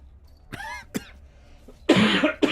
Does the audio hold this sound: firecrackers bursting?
no